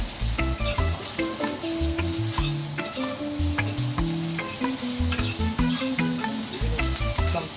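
Purple and white onions fry in a pan for Jamaican ackee and saltfish, a steady close sizzle broken by frequent scraping, clinking strokes of a utensil stirring them, with no talk.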